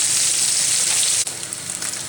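Sea bream fries in oil with a steady, loud sizzle and dense crackling hiss, briefly dipping near the middle before continuing slightly softer.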